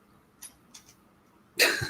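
One short, sharp cough rings out close by after a couple of faint, scattered noises in a quiet room.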